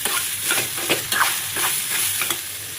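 Tomatoes and onions with rock salt sauté in a pan, a continuous close sizzle broken by repeated scraping stirs and light clatter from the spatula.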